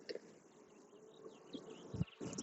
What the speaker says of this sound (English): you see how many bees we have on this frame?